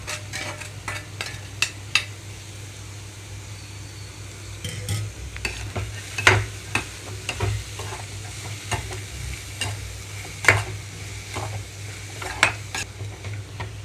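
A spatula scrapes and clatters against a pan in irregular strokes over a soft, steady sizzle of boiled cabbage and chana dal frying on low flame, with no talking.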